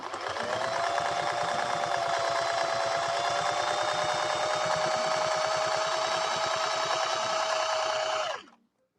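A 1961 Singer 401A sewing machine runs steadily through a decorative stitch, a loud, close, even mechanical whir with a rapid needle rhythm and a faint whine, holding for about eight seconds before stopping abruptly.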